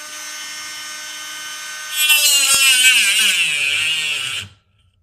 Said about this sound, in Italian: sto pretendendo un pochino troppo da questa smerigliatrice